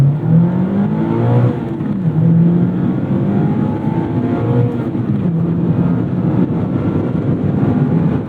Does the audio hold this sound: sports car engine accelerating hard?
yes